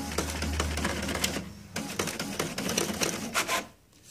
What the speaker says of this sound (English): Feels like there's a paper jam.